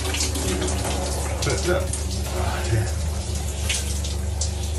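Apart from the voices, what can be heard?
hot shower running water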